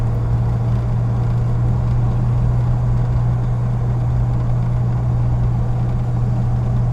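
A 1979 Ford Mustang Cobra Foxbody with an upgraded exhaust, heard from inside while driving: a steady, loud low engine drone and exhaust rumble, constant throughout with no talk.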